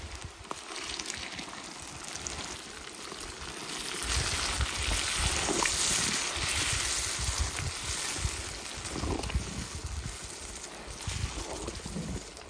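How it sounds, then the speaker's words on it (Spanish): Steak in red chile sauce simmers in a pan, giving a soft, continuous bubbling and sizzling that swells louder midway, close up and without talk. "Le vamos a poner el chile, lo vamos a dejar que hierva y listo."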